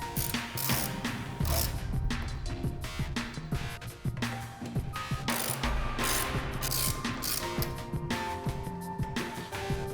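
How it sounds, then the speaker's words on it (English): Screws are tightened to fasten a Givi Tanklock bracket and ring onto the gas tank of a BMW F850GS motorcycle, with dense, continuous ratcheting clicks running steadily and loudly for the whole stretch. "tighten the 4 screws to secure the bracket and the ring to the gas tank"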